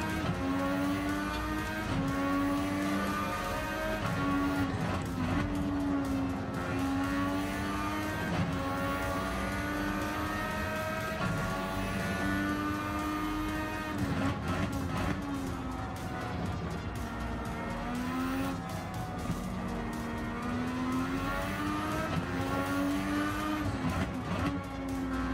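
Formula 1 car engines in Gran Turismo 7, Williams against McLaren, wail steadily for the whole stretch with rising and falling revs through gear shifts. Brief tire squeal and skids come through now and then.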